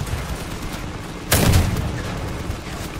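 Twin cannon shot from a Crossout vehicle build, one sudden booming blast that stands out loud and close against a steady rumbling engine and battle background, then fades over about a second.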